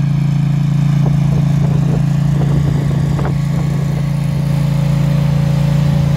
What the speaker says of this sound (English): Best to keep the machine around 4 kilometers an hour when mowing with the remote control so you've got more control.